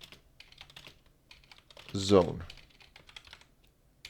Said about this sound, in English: Not great at typing today.